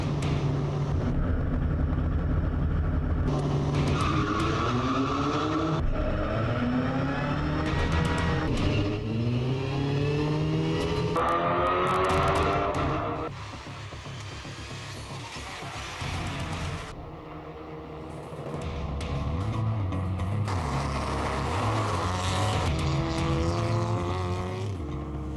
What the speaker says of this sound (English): The final race of the last racing weekend here of the Volkswagen Ameo Cup 2017.